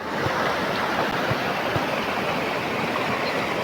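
Heavy floodwater from the Shetrunji dam roars past the Ratakhada bridge, a dense, steady rush that fills the whole clip without a break or any voices.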